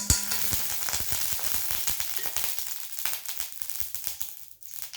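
Coconut oil poured into a hot, dry pan sizzles and crackles loudly and steadily, a dense spitting hiss that eases slightly toward the end.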